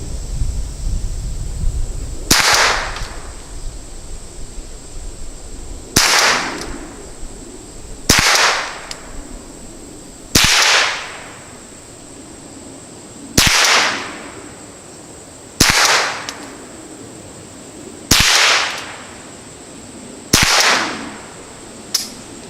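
Eight sharp gunshots from a Henry Survival Rifle fired at 25 yards, spaced a few seconds apart. Each is a loud crack with a short ringing tail, and outdoor quiet fills the gaps between shots.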